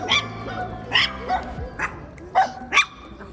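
Small dogs bark repeatedly on a city street, several sharp yips spaced about half a second apart over a steady urban background hum, close and moderately loud.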